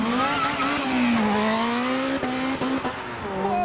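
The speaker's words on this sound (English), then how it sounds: "And now ride number 5 from the supercharged Atom." A supercharged Atom car at a car meet sweeps past, its engine note rising and falling in a loud, steady drone over about four seconds with a few sharp transients.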